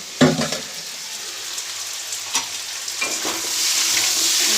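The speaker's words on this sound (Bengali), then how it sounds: "ভালো করে ভেজে নিচ্ছি। চিংড়ি মাছ" Small prawns frying in a pan, with a bright hiss of oil, several clatters of a utensil stirring them, and the sizzle swelling louder toward the end.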